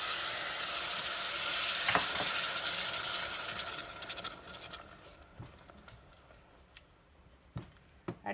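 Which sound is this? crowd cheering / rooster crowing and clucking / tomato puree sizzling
tomato puree sizzling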